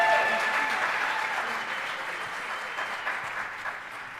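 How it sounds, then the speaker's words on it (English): An audience applauds high school chorus students at a county concert, a steady, dense patter of many hands clapping, moderately distant in a hall and gradually thinning toward the end. "let's give our students a round of applause."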